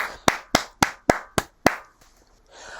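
Six sharp, evenly spaced hand claps ring out up close, each crisp and percussive, followed by a quiet lull and faint room noise.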